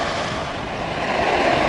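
Ocean waves washing up at the water's edge on a beach, a loud broadband rushing surge with wind buffeting the microphone, swelling slightly toward the end.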